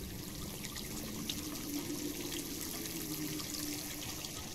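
Water trickles steadily in a faint, continuous splashing in an ancient Mayan chamber in Sherlock Holmes: The Devil's Daughter, with no voices.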